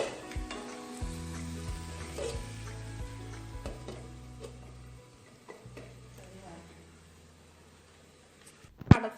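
Gooseberry pickle is stirred in a pan over a low flame, with a soft sizzle and scraping spoon strokes against the pan, then a louder clatter at the very end.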